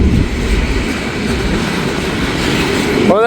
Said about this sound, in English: Well, that was pretty cool on that last train